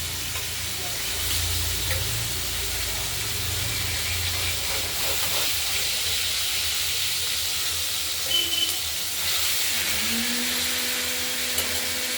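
Boal fish fries in oil in a covered pan, a constant loud sizzle and hiss with steady crackle throughout, with faint background hum and a brief tonal sound near the end.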